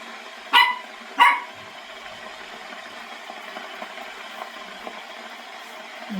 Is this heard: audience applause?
no